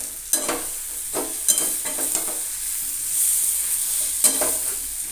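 Spices sizzle loudly with a spoonful of sugar in a pan for a prawn and elephant-foot-yam curry, with bright frying hiss and repeated scraping stirs close by.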